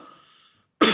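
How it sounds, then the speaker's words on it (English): A single short, forceful cough bursts out at the end after near silence, a person demonstrating the coughing reflex. "Now I am coughing."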